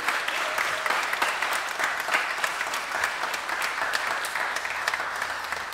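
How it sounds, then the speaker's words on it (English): Wedding guests clapping for newlyweds Hannah and Aaron, a dense, sustained round of applause from a full room, fairly loud and continuous with no talk over it. "A round of applause for them."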